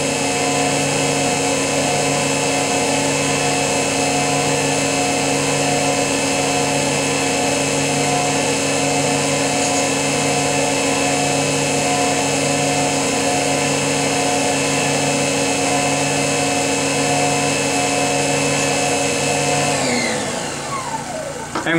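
A Brewer Science 100 spin coater holds 6000 RPM, giving a loud, steady motor whine with stable tonal harmonics for about twenty seconds before it begins winding down at the very end.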